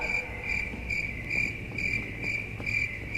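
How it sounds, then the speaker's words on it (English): Crickets chirp in a steady, rapid pulsing trill, several bursts per second, continuous and moderately faint over a low background hum. "nothing but crickets."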